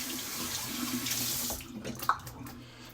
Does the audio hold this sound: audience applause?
no